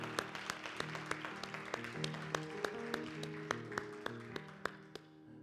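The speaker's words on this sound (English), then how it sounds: "Let's give Dr. Christie a round of applause." A congregation at a Unity of Sacramento church service claps for Dr. Christie: distinct, fairly regular claps over a low, sustained musical backdrop, steady for several seconds before fading at the end.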